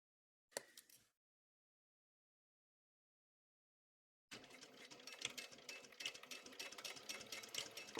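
Sewing machine basting stitches along fabric for a laptop bag: a brief close burst near the start, then a long steady whirring run of stitching after a pause of silence.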